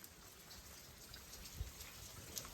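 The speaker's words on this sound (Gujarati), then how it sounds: "આ વરસાદ પાછો ચાલુ થઈ ગયો" Steady, quiet rainfall patters down in a village setting, a soft continuous wash of drops with a couple of slightly louder drips standing out near the end.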